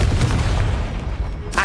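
Confringo blasting spell in Hogwarts Legacy bursts into a loud, booming explosion with a rumbling low tail that fades over about a second and a half, without talk.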